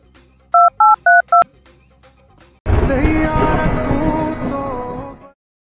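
A telephone is dialed with four quick keypad tones in an even rhythm. After a short pause, a louder, sustained tonal sound follows and then cuts off.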